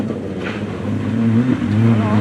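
WRC rally car at the Rajd Barbórka Bemowo stage accelerating past with a rising engine note that builds louder over a couple of seconds, heard from the roadside.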